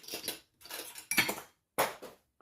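Metal clips snapping onto watercolour paper pages: four quick bursts of clattering, clinking metal, each a fraction of a second, close and fairly quiet, with short pauses between.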